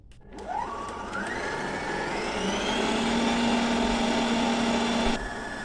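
An electric mixer beating hard margarine whirs up to speed, then holds a steady, loud motorized drone with a rising pitch that cuts off near the end.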